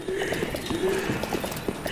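Horse hooves clip-clop in a quick, steady rhythm against a dense background of Dark Souls III game noise in Irithyll of the Boreal Valley, with a brief high whinny-like tone mixed in.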